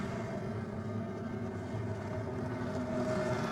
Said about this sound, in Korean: 모터 소리가 이곳 하나 미사 경정장에 조금씩 조금씩 울려 퍼집니다.